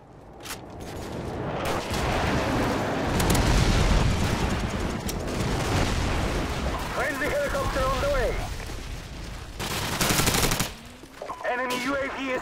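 Airstrike explosions and heavy gunfire in Call of Duty 4: Modern Warfare multiplayer, a dense loud barrage of blasts and rattling shots with brief radio voice lines over the top.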